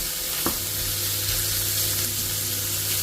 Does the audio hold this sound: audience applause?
no